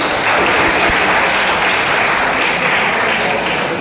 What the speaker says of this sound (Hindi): प्लीज़ सर के लिए भी तालियां बजाते हैं।